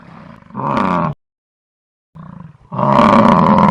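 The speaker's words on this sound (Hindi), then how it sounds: "उसने शेर की दहाड़ने की आवाज सुनी" A lion roars twice as a story sound effect, loud and close, with a powerful first roar and a longer second roar after a short silence.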